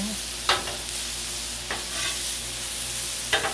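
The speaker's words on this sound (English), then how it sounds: "it's getting a good sear" Turkey stir fry sears on a hot Blackstone griddle, a steady close sizzle with three brief scraping stirs of the spatula.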